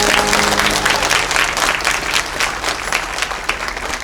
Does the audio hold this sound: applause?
yes